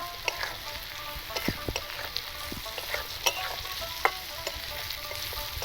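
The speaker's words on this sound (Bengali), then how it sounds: "এবার পনিরগুলো নেড়ে দেবো ভালো করে" Paneer and mixed vegetables fry in a pan with a continuous low sizzle, while a spatula scrapes and clinks repeatedly as the food is stirred; fairly quiet and close, without talk.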